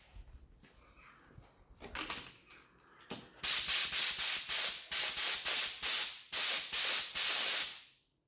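A spray gun sprays silver base coat paint onto 1971 Honda CD175 K3 restoration parts, giving about a dozen sharp, loud hissing bursts of roughly half a second each after some quieter handling noises.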